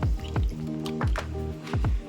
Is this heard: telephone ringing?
no